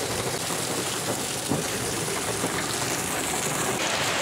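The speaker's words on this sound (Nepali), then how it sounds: "पानी परेको अवस्था" Morning rain pours down over quiet streets in Butwal, a dense steady hiss of falling water close by, continuous and even throughout with no voices.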